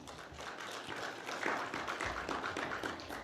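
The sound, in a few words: audience applause welcoming the speaker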